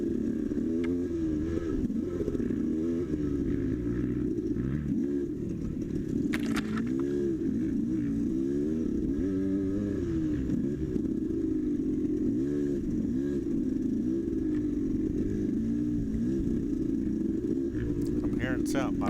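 An enduro motorcycle engine revs steadily in the woods during an enduro test, with a continuous loud drone that rises and falls in pitch throughout, while someone talks over it.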